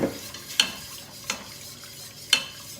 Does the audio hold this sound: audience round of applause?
no